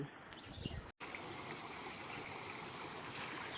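A shallow village river flows over large stones, a steady broadband rushing and trickling heard close up, with a brief dropout near the start and no talking.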